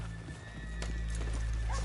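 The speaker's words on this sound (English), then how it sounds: "let's leave the horses here off the main drag" Horses in the Red Dead Redemption 2 video game shuffle and clop faintly over a steady low background rumble, with a brief snort or whinny partway through.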